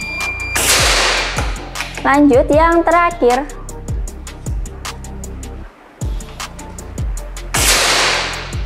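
A Mauser OD38 single-shot PCP air rifle fired during a grouping test gives a sharp, loud crack near the start and another near the end. A person talks in between over a steady series of faint, regular ticking clicks.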